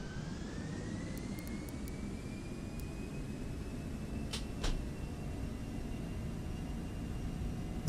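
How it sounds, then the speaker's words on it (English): Jet engines of a FlightFactor Boeing 757 in X-Plane 12 spooling up at takeoff thrust on the runway, a steady broad roar with a faint rising whine and a couple of brief clicks midway. "Listen to those engines purr."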